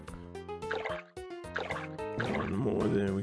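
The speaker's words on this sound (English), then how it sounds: "Let's flatten the whole thing and add water." Water filling flattened terrain in the video game Chris Sawyer's Locomotion, bubbly splashing and dripping liquid sounds in short bursts over a sustained musical tone, at moderate loudness.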